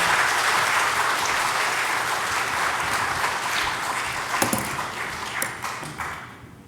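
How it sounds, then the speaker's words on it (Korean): Church congregation applauding to welcome a guest speaker at a Saturday morning prayer meeting, a dense sustained wash of clapping that slowly thins and fades, with a few sharp louder claps toward the end. "이제 교수님 나오실 때 여러분 따뜻한 박수로 맞아주시기 바랍니다."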